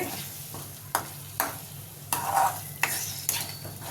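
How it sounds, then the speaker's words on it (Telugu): An egg and green chilli mixture fries over medium flame while a utensil stirs and scrapes the pan in irregular strokes, with a soft sizzle underneath throughout. "మీడియం ఫ్లేమ్లో పెట్టుకొని కలుపుకుంటూ ఉండాలి, లేకపోతే మాడిపోతుంది."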